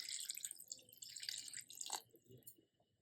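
Water poured into a pressure cooker of plantain (valakkai) gravy, heard as close, soft trickling and splashing that fades out toward the end.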